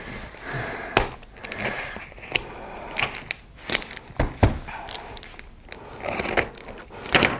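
Close crinkling, tearing and scraping of tape on a diamond painting kit package, with sharp rips and rustles coming in irregular bursts.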